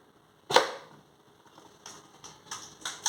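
A homemade pipe blowgun made from a pipe, paper and a nail fires a paper-and-nail dart in one sharp puff and thwack, followed by a few lighter clicks and taps at close range.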